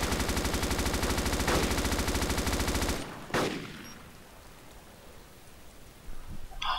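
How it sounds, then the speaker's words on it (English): Rapid automatic gunfire rattles continuously in the DayZ video game for about three seconds, then a single sharp shot cracks out and echoes, followed by quieter ambient noise. "I'm gonna shoot now."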